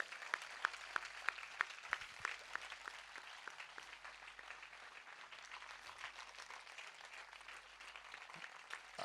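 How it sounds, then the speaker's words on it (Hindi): A congregation claps together at a church service in Jabalpur. A burst of sharp, rhythmic hand claps comes first, then dense, sustained applause continues steadily throughout. "ताली बजाकर हम प्रभु को धन्यवाद देंगे।"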